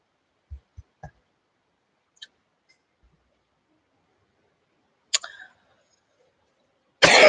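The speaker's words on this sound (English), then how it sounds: "Excuse my coughing" A few short, sharp coughs close up, spaced apart in near silence, followed later by a brief throat-clearing burst and a loud rush of noise at the end.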